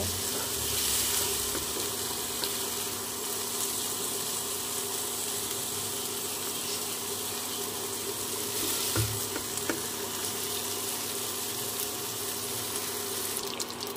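Whole cumin, bay leaves and cut potatoes frying in oil in a wok for Bengali aloo paneer dalna, a steady loud sizzle and crackle running unbroken throughout, close up and without speech.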